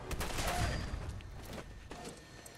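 Bursts of gunfire from the game Fallout 4, played on survival difficulty, rattle off in quick clustered volleys at the start and again near the end, over continuous game background noise.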